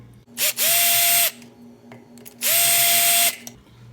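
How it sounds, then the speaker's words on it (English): A power drill backs screws out of a ceiling fan being taken apart for repainting. Two close, loud whirring bursts of under a second each, each with a rising motor tone, are separated by a short quiet pause over a faint steady hum. "next step, we're going to take out the screws in here."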